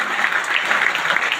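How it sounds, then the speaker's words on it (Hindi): Applause from the audience at a large jyotish (astrology) convention in Narwana, a dense, steady wash of clapping that holds loud and even through the whole moment. "तो एक बार जोरदार तालियां"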